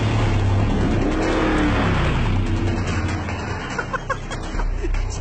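A Mercedes G63 AMG 6x6 pickup drifts across a flat desert floor, its engine roaring steadily with tyre and gravel noise churning up close and loud throughout.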